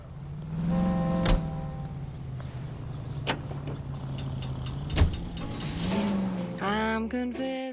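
A car in LA Noire drives along with a steady low engine hum. Occasional sharp clicks and thumps sit on top of it, and a brief rising rev comes near the end.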